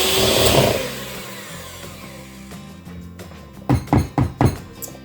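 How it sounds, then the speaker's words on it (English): Pistachio bread batter with eggs being mixed by an electric mixer, a loud whirring that fades out, followed by several thumps as the bowl or beaters are knocked. "And now I'm just going to mix it until it is well combined."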